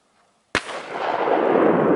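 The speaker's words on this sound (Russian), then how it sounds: "Серега стреляет." A single sharp shotgun report during a duck hunt, sounding far off across open country, its sudden crack followed by a long rolling echo that lingers to the end.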